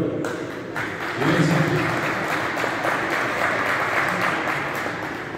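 Sustained applause from an audience at a 2022 exhibition in Pelplin, a dense, even wash of clapping that swells slightly and holds for several seconds.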